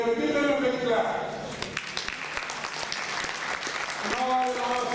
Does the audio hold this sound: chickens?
no